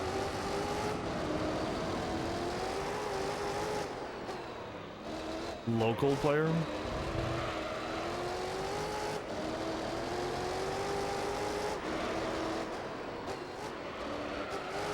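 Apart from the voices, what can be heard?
race cars in video game Gran Turismo 3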